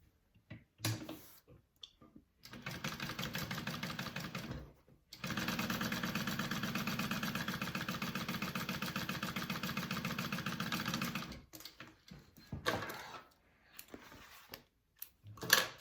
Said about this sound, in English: We're gonna sew together our side that's not so curvy.